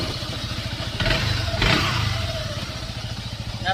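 A Yamaha Sniper 155 VVA motorcycle engine revs in short bursts over a rough, pulsing idle, with a rattling belt clatter audible close up and no talking.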